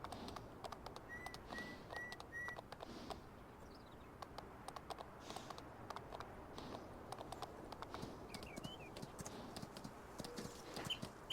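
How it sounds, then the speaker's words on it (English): Horse trotting in Farming Simulator 19, from a video game: a steady, quick clip-clop of hooves running throughout, moderately close, with faint bird chirps in the background and no talk. "you can tell how fast the horse trots"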